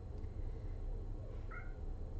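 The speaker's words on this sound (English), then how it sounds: "Oh, I hear a kitty cat." A house cat gives a single short meow, faint and somewhat distant, against a steady low background hum.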